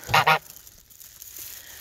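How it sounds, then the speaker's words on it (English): A young goose gives two quick, loud honks close by, followed by faint background quiet. "that's one of the young geese."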